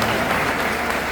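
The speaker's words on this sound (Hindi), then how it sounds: "एक बार हमारे इन दोनों मित्रों के लिए भी तालियां बजा दीजिए।" Audience applause at a live Hindi poetry and music event, a steady dense wash of clapping that fills the short moment without a break.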